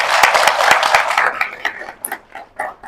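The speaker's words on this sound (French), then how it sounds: "Il faut applaudir pour elle" Audience applause for an older woman at a Simandou Tour event, dense clapping at full strength for a little over a second before thinning into scattered claps that fade out.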